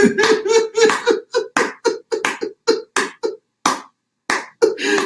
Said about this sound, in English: I want to clap for you